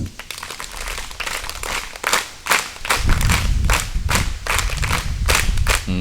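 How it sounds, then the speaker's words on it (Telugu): Students at a school notebook distribution event for poor students clap together in gratitude, a group of many hands producing dense, fairly loud clapping that swells after a few seconds into fuller, sustained applause. "ఇప్పుడు గ్రాటిట్యూడ్ క్లాప్స్"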